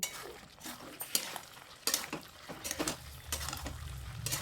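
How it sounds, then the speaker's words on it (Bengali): Fried potatoes and pointed gourd are stirred with spices in a pan, with uneven scraping and clinking spatula strokes over a low sizzle, close and moderately quiet. "দিয়ে দেওয়ার পর মশলার সাথে ভালো করে নাড়াচাড়া করে নিতে হবে।"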